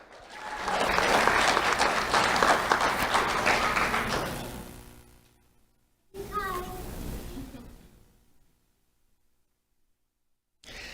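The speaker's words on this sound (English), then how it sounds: "Let's have a round of applause for Penelope Rangel." An audience applauds an award recipient at a sheriff's office ceremony, a full round of clapping that swells and tapers over about five seconds, then a shorter second burst, with a voice briefly heard.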